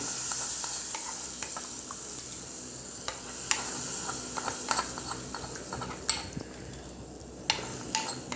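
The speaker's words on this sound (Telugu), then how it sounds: "ఇప్పుడు ఈ పోపు అంతా ఇందులో వేసేస్తున్నాం, పచ్చిపులుసులో వేసుకోవాలి." Hot tempering is poured into raw tamarind stew (Telangana pachi pulusu) and stirred, with a steady, close sizzle broken by frequent scraping and clicking of a spoon against the pot.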